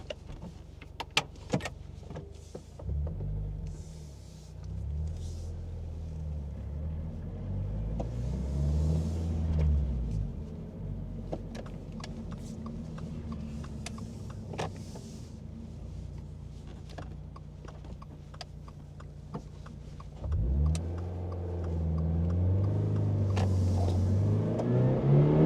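A 2026 Toyota GR86 Yuzu edition driving and accelerating, its engine rising in a few revving pulls with gear shifts and a steady road rumble between them, heard from inside the cabin.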